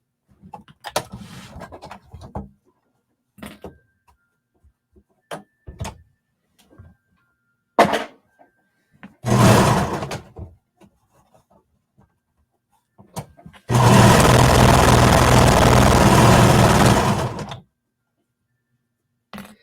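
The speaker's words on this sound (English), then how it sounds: "we just need to sew across here to attach the pocket to the skirt" A sewing machine stitches a pocket onto a jacket skirt piece with a 1/4 inch seam, heard as one short motor burst and then a steady, fairly loud run of about four seconds, with quiet handling noises before it.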